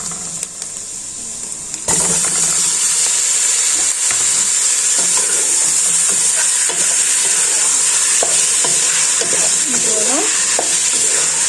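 Tomatoes drop into spices frying in a pan for a pizza and pasta tomato sauce, setting off a loud, steady sizzle with scraping stirs; a brief word is spoken early under the hiss.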